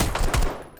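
Boiling Point weapon in Black Ops 6 letting off a quick burst of loud, close automatic fire lasting under a second, the shots blurring into a rapid stutter before a short tail fades out.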